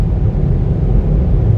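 Car wash dryer blowers at a Shell car wash roar steadily and loudly in a dense, low rumbling rush of air, continuous and close throughout.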